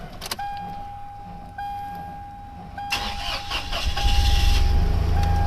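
A Toyota 4Runner being revived after sitting, its engine cranking and then catching, settling into a loud, rough idle that builds over the last seconds, with a steady electrical whine running underneath.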